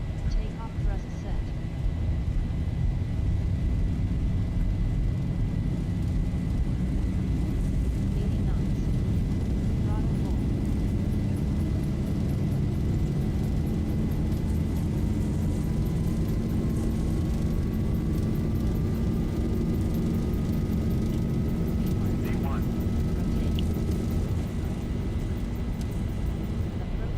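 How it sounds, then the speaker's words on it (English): Simulated Boeing 737 jet engines spooling up to takeoff thrust in the Zibo mod, a steady loud roar with a rising whine throughout, heard with talk over it. "Takeoff thrust set."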